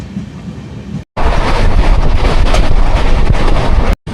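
A Cherlapalli–Agartala passenger train runs near Nadikudi junction, a loud, continuous rumble and rattle heard from on board with heavy wind buffeting, broken by two brief dropouts.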